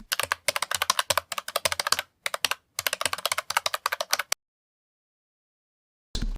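Someone types an email address on a computer keyboard in quick, close clicking bursts with brief pauses, then goes silent for almost two seconds before a last short burst of keystrokes.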